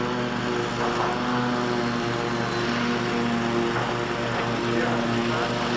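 A Freewing Avanti 80mm RC jet flies at full throttle, producing a steady, loud, high-pitched whine with a strong buzzing drone that stays constant across the whole stretch.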